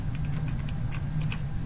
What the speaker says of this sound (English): me typing this here